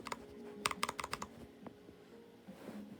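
Keys pressed on a slightly defective laptop keyboard, a quick burst of crisp clicks and taps close by, then a few scattered presses trailing off, with no talking.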